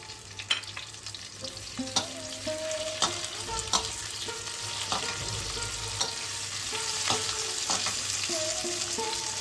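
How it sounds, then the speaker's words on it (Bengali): Onion frying with garlic and ginger in a pan for chicken tikka masala, a steady sizzle broken by repeated scrapes and knocks of a stirring spoon, close and continuous, no talking. "এদিকে পেঁয়াজটা যেই হালকা করে ভাজা হয়ে যাবে, তখন আমরা টমেটোটা দিয়ে দেব।"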